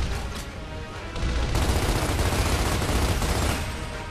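Troika mounted machine gun in Gears of War firing on an Insane campaign level, a dense sustained roar of rapid automatic fire that swells louder after the first second and runs on steadily.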